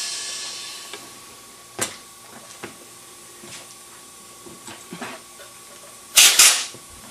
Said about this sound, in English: Now, what we can do is take some compressed air.